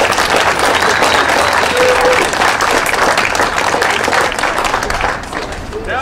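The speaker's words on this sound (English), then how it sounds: "Give each other a big hand of applause for doing such a great job." An audience claps steadily at a legislative gathering, dense applause holding loud and even for about five seconds before easing slightly near the end, with a little crowd murmur mixed in.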